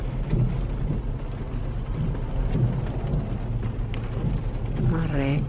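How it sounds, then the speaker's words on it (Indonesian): Heavy rain falls steadily during a long afternoon downpour on a congested street, a dense constant hiss close by, with faint traffic murmur and a brief vehicle tone near the end. "Sudah setengah hari ini hujan."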